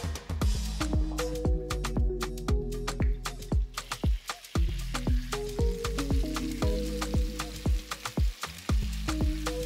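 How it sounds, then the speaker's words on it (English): Suya steak frying in a cast iron pan, loud crackling sizzle with rapid popping bursts and short pauses, close and continuous without any talk. "This cast iron lovely pan, which is not meant to be washed, is what we'll be using for the steak today."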